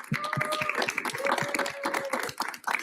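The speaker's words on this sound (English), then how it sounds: "Let's give one more round of applause for all of our speakers today." An audience applauds speakers at the close of a presentation event, a dense wash of clapping that rises near and fairly loud over nearly three seconds, with a voice talking over it.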